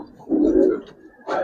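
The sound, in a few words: Giribaz and coloring pigeons cooing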